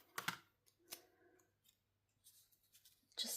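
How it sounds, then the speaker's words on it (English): Scissors snip a small offcut of green scrapbook paper with a white back in half, giving a few quiet, sharp cuts with pauses between them and no talk. "And so let's just cut it in half"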